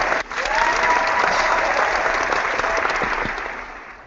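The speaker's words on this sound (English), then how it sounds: "Round of applause for Michael" Loud, dense applause from a live audience at a zombie-themed stage show, a sustained wash of many clapping hands that starts abruptly and fades slightly toward the end.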